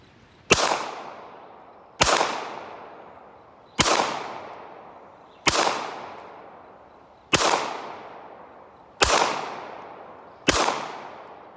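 Seven M9 or M17 pistol shots fired at qualification targets on a range, sharp loud cracks spaced about every two seconds, each with a short decaying tail, and no talking.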